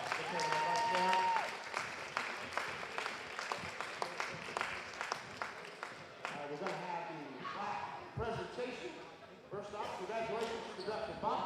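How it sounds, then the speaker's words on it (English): Crowd applause fills a gym at a Miami versus Drexel boys basketball tournament game, a steady wash of clapping with scattered sharp ball bounces and shoe squeaks, while people talk over it. "We're going to give both schools a nice round of applause for a hard-fought game"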